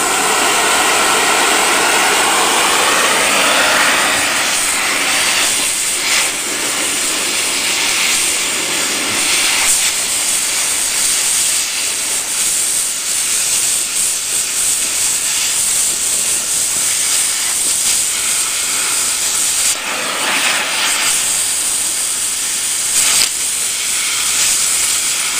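An angle grinder working a metal part on a wind turbine build, a loud sustained hiss and whine running steadily throughout, with small shifts in pitch and pressure as the disc bites.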